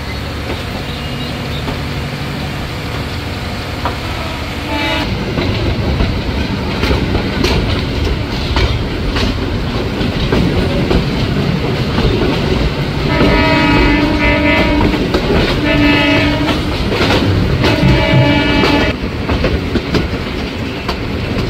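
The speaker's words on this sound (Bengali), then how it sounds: "আর এই যে ট্রেনটা এখন ছেড়ে দেবে, হর্ন দিয়েছে" The Karatoya Express pulls out of a station in Bangladesh, sounding repeated loud horn blasts over steady rumble and clickety-clack of rolling wagons, with a second train departing on the opposite track.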